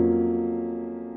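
A sustained piano chord, a dominant voicing moved up a half step with an added major seventh, rings out alone and steady, slowly decaying with no talk over it.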